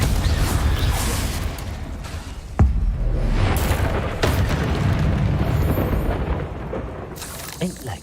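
A Confringo spell in the video game Hogwarts Legacy sets off booming blasts, with one sharp explosive hit partway through and a heavy, rumbling din of game effects around it.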